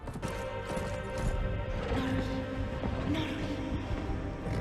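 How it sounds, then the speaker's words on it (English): Horses gallop in a fantasy TV series scene, with rapid hoofbeats mixed into a busy, loud soundtrack of music and effects that continues without a break. "Girl horse Galadriel easily catches up to Adar and Halbrand somehow appears from the opposite side."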